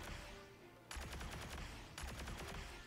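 Rapid-fire gun in the video game Lost Planet 2, two quick bursts of automatic shots following a softer gunfire sound, crisp and fairly loud with no talking.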